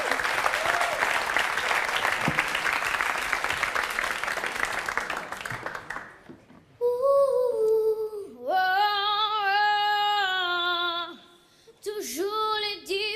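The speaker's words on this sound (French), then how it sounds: "On peut applaudir très fort Alicia" A television studio audience claps steadily for about six seconds, then the applause cuts off and a sung music passage with sustained voices takes over.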